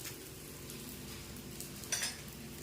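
A barnyard millet vrat dosa roasts on a pan with a quiet, steady sizzle and a faint low hum, and a short, slightly louder clink or scrape comes near the end.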